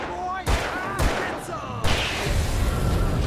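Gunshots in the video game Alan Wake Remastered, loud close blasts arriving in several sharp bursts over a din of game sounds.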